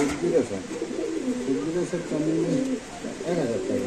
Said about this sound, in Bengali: একটু লাড়া দেন ভাই কবুতরটা